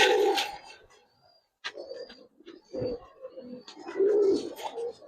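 Giribaz pigeons cooing in a loft, soft low throaty coos coming in bursts with short quiet gaps and some brighter rustling or wing noise, close by and moderately loud.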